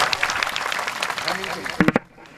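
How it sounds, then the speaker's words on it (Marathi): An audience at a Marathi kirtan gathering claps in a dense, continuous patter, mixed with talking voices, before the sound thins out abruptly near the end. "टाळी वाजवा एक बार जोरात"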